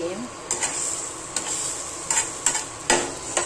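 Onion chutney fries in a pan with a soft sizzle, punctuated by several sharp scraping clinks of a spoon against the metal every half second or so; no voice is heard.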